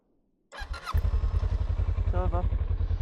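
A motorcycle engine starts abruptly with a brief crank and catches, settling into a loud, steady, close-up idle with a rhythmic low thump, ridden near the Tail of the Dragon road.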